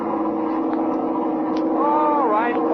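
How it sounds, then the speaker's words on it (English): A steady airplane engine drone with strong harmonic tones holds throughout, rising in pitch toward the end as it revs; a voice speaks over it. "Open up the engine"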